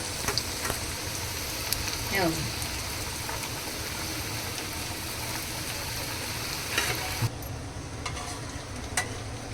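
Vegetables fry in a pan for a no-onion, no-garlic sattvik thali, giving a steady rain-like sizzle with a few stirring scrapes and light clicks, moderately quiet and unbroken.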